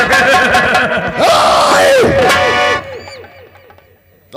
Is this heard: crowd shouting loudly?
yes